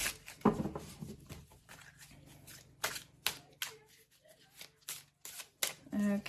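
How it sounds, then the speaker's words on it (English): Tarot cards being shuffled by hand, with soft riffling bursts and taps scattered through the stretch, close and fairly quiet, while a person talks intermittently. "we are going to shuffle the cards, cut the deck into 3 piles."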